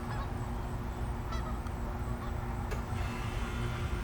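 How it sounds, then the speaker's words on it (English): Geese honk repeatedly over a steady low rumble, their calls fairly close and rising above the background hum. "Stupid geese woke me up."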